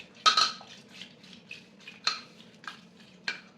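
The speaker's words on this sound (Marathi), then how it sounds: "डाळ शिजून घेतले आणि रवीने चांगलं असं एकजीव करून घ्यायचे" Cooked black urad dal being mashed in a pot with a wooden churner, giving a close series of irregular knocks and clatters against the vessel over a low background hum, with no speech.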